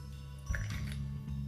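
Water splashes and trickles into a container over a low steady hum, a short pour with a few drips and gurgles.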